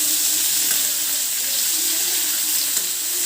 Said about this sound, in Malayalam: എണ്ണ ചൂടായി വരുന്നുണ്ട്. ഇനി നമുക്ക് അമ്പഴങ്ങ ഇട്ട് കൊടുക്കാം.